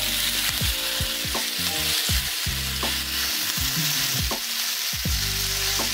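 Kefta meatballs sear in olive oil in a pan, a constant close sizzle with repeated scraping and stirring strokes cutting through it, no talk.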